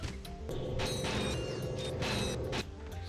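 In the Ratchet & Clank video game, a vacuum gadget sucks up space ducks with a continuous whooshing suction. Clanking, creaking mechanical effects and sharp game bursts sit on top, and the roar stays loud almost throughout before easing briefly near the end.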